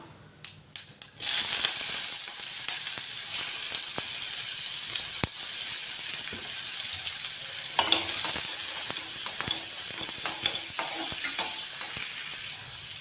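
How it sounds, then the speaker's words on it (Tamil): Hot oil with mustard seeds sizzles and crackles steadily, the seeds popping sharply with spatters scattered throughout, close up and fairly loud with no talking. "இப்போ கடுகு நல்லா வெடிக்க ஆரம்பிக்குது"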